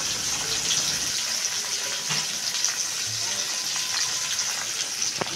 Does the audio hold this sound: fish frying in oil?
yes